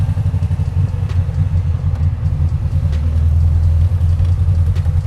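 A 1968 Volkswagen Beetle's air-cooled engine rumbles steadily nearby while the car drives slowly and pulls in to park, the low throbbing note holding even throughout with no talking.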